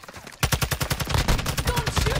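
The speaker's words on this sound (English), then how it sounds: "Taking effective fire." Rapid automatic gunfire from a TAQ 56 rifle in Warzone 2.0 rattles loud and close, a continuous burst of sharp cracks with no pause.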